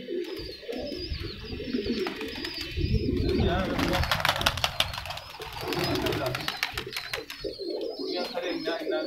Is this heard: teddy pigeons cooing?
yes